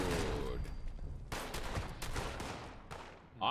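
Turret in Fallout 76 spraying rapid automatic gunfire, a dense crackling burst of shots through the clip, moderately loud with someone speaking briefly over it and a short electronic tone at the very end.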